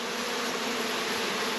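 Honey bees buzz around a hive in a dense, continuous, close drone with no other sounds.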